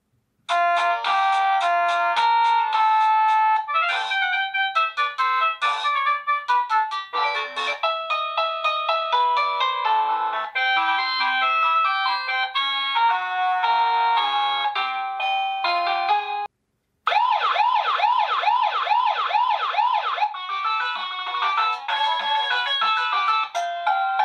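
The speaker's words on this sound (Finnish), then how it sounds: "Mutta nyt pitäisi vaihtaa se soittoääni." Electronic doorbell-style tones play in a continuous sequence of bright melodic chimes and a warbling trill, with one short gap between tunes, loud and close with no voices.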